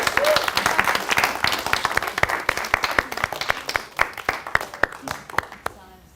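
An audience at a healthy longevity conference round table gives a round of applause. The dense clapping gradually thins into sharper individual claps and fades out near the end, with some voices talking beneath it.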